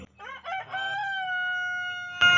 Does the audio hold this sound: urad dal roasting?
no